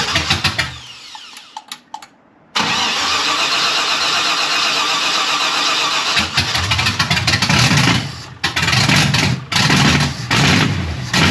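An old car that has sat unused for 20 years cranks briefly and then catches. Its engine roars up loudly and runs unevenly for several seconds, with a few stutters and dips as it struggles to keep running.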